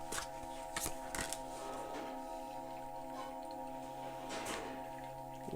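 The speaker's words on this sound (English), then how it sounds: "I shuffled the deck really, really well." A deck of tarot cards is shuffled close by in a quiet room, with a few crisp riffling bursts and softer slides over a steady low hum.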